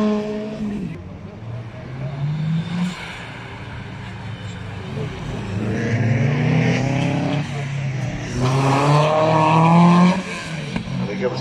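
A BMW rally car, number 25, drives quickly through a stage at Cadwell Park, its engine note rising and falling loudly as it revs and passes, with commentary heard over it.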